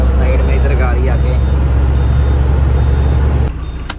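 A loaded truck on a Mumbai-to-Delhi run idles with a loud, close, deep engine rumble as it pulls to the roadside, someone talking over it before the drone drops off near the end.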